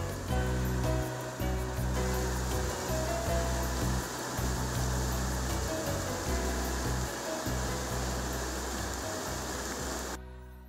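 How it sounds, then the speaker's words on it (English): Calm water splashing and flowing beside a bridge in Mitheru Forest, part of the Mount Kenya Forest, makes a steady broadband wash that stays close and even for about ten seconds, with no talk. "Next to the bridge lies the calm water splashing and gently moving through the trees."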